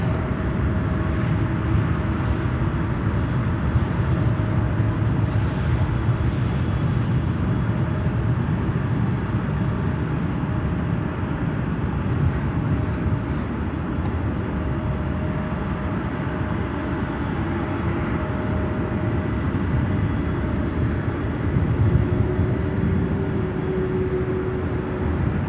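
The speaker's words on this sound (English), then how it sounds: "That's a 747-400, 18 years old." An 18-year-old Boeing 747-400 at Chicago O'Hare airport gives a steady, loud broadband jet roar with a low rumble, sustained evenly throughout with slight swells and no talking.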